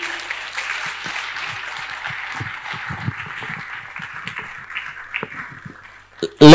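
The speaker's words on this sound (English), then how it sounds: "Let's keep clapping" A crowd at a book launch applauding steadily, a broad wash of clapping that thins slightly before a loud burst at the very end.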